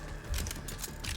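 A weapon being reloaded in the shooter game Borderlands 3, a short burst of clicking, ratcheting mechanical sounds at moderate level, with no talk over it.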